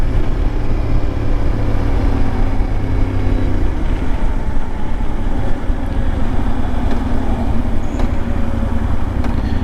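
A 2025 Yamaha Tenere 700 motorcycle ridden on a commute to work, its engine droning steadily under loud wind and road roar for the whole stretch, with a lower tone shifting partway through and no voices.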